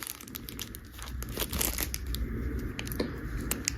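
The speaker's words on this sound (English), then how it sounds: "kind of a thin plastic cover that goes on the plug for the screen" A thin plastic cover for the Cybertruck screen plug crinkles and crackles as it is handled up close, in uneven bursts of rustling.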